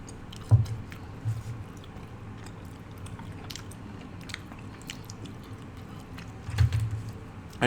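Close-miked chewing and mouth sounds from someone eating spicy carbonara rice cakes (tteokbokki), soft wet smacks with a couple of louder bites standing out in a quiet room.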